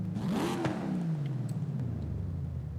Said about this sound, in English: let's check out the exhaust sounds. So this is stock.